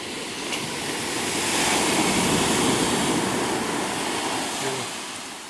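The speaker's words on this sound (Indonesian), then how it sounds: "ada ombak belakang" Ocean waves roar in a broad rushing wash that swells louder midway and eases off, with some wind buffeting, at Mapaddegat beach in Mentawai.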